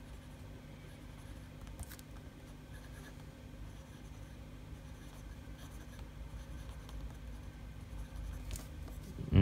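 A wet-writing Lamy fountain pen scratches softly across paper, close and quiet, with faint irregular strokes and small taps continuing throughout.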